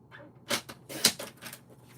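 Paper being cut for a handmade card gives a few crisp snips and rustles in close succession, close and fairly loud, with brief pauses between them.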